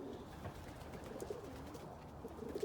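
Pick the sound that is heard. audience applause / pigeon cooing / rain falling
pigeon cooing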